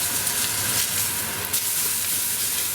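A cheeseburger patty fries in a hot pan, giving off a steady, dense sizzle that holds at an even level with no one talking over it.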